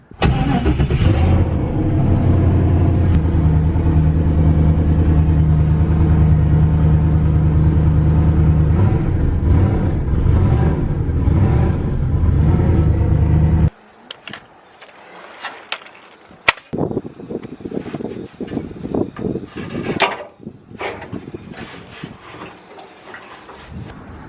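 A Mazda RX-7 drives under a loud, steady engine drone for about fourteen seconds, on its first drive in two and a half years, then cuts to quieter clunks and knocks close by.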